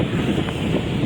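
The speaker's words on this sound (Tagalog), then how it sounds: "Pero merong hangin." Wind buffets the microphone in a low, steady rumbling roar throughout, at a riverside construction site on the Pasig River Esplanade.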